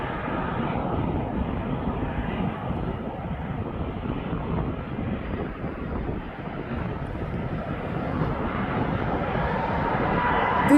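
A Ryanair jet's engines roar at East Midlands Airport, a steady broad rumbling drone heard from a distance across the whole stretch, swelling slightly toward the end, with wind buffeting the microphone.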